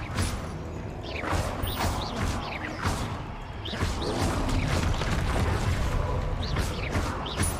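Confringo blasting spells in the video game Hogwarts Legacy, with repeated whooshing bursts and crashing impacts against a dense, loud game-audio background.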